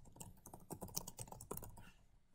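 Rapid keystrokes clatter on a computer keyboard, a quick uneven burst of close clicks that thins out toward the end, heard alone without speech.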